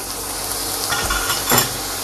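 Bacon fries in a pan with a steady close sizzle, and a brief clink of a utensil against the pan comes near the end, no talking.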